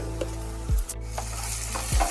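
Onions frying in oil in a wok with a pinch of sugar, a steady close sizzle with a few stirring scrapes and clinks, no talk.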